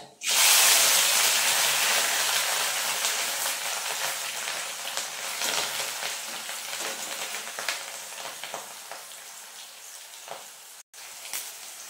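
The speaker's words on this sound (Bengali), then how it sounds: "পেঁয়াজটা আমি সুন্দর লাল লাল করে ভাজবো" Onion paste hits hot oil with a loud sudden sizzle, then settles into a steady, close-up frying hiss that slowly eases, with a few faint stirring clicks and a short break near the end.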